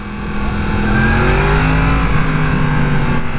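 A Yamaha FZ-series motorcycle engine, either the FZ-07 or FZ-10, revs loudly and close by, its pitch climbing and holding steady at a sustained roar with no talk over it.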